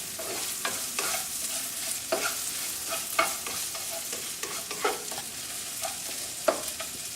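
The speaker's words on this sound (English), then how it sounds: "the ginger, and just let that cook in the oil" Ginger frying in oil at the start of a fried rice, an even sizzle broken by repeated sharp scrapes and taps of a spatula against the pan, close and moderately loud, no speech.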